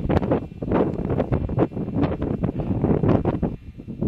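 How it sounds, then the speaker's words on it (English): Strong, gusty wind near the snowy 14,433-foot summit of Mount Elbert, Colorado buffets the microphone in loud, roaring bursts that rise and fall continuously, with no voices. "There's a lot of snow and it's very windy"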